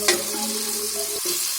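Gram flour bariyan frying in a pan over a medium flame: a short, steady broadband sizzle with a faint underlying hum and no voices.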